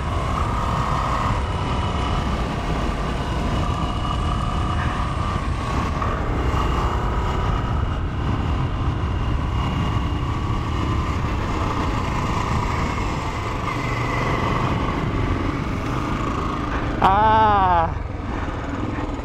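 A Royal Enfield Trials 350 motorcycle engine is held at full throttle, giving a steady, loud, continuous drone with wind rush throughout, and a brief rising whine near the end.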